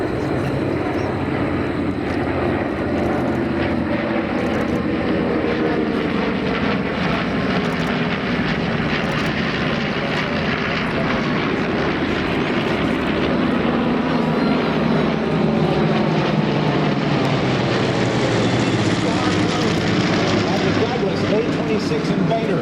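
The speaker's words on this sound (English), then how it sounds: "Here come the B-25s." A formation of World War II B-25 bombers flies over an airshow gathering, a loud, continuous piston-engine drone that swells and shifts as the planes pass overhead. No one speaks.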